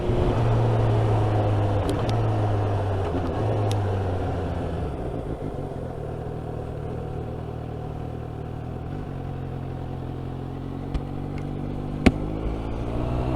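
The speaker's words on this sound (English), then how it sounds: "God, I forget how much faster this bike is than my other bikes." A Suzuki GSX-S750 inline-four motorcycle engine hums steadily while riding, its tone easing down through a gear change with wind rush and road rumble underneath, and a brief click near the end.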